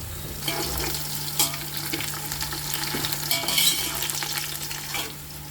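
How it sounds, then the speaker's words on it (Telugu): Onions fry steadily in oil for mutton biryani, a continuous close sizzle with occasional scraping stirs of a spoon against the pan, plus a low steady hum underneath. "ఉల్లిపాయలు బాగా ఎర్రగా అవ్వాలండి బిర్యానీలోకి"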